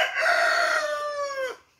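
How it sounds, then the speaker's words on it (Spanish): A rooster crows once, loud and close, one long drawn-out call of about a second and a half that trails off at the end, with no talk over it. "los gallos una vez canten una vez, vuelven a cantar hasta 3 veces, 4 cantos"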